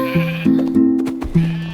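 Sheep bleating loudly and close, several wavering calls in quick succession with brief gaps between them.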